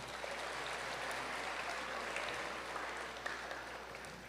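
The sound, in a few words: applause at 8th grade promotion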